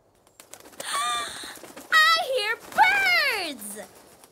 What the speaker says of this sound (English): Happy Hippo can hear the birds